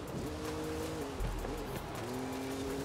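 A car engine revs and shifts through gears during a race in Forza Horizon 5, with a yellow Ford Bronco right behind; the engine drones steadily and a tire squeal cuts in briefly.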